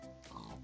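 One short, faint grunting oink from a pig in the video game Minecraft.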